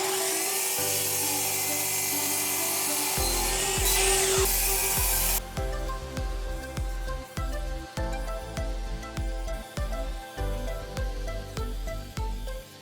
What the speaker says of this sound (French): je vais découper tous mes petits morceaux de bois